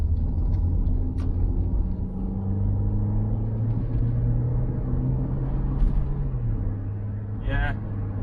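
A small 1.2-litre car on a test drive, its engine note rising and dropping as it changes through the gears, with steady road rumble close inside the cabin.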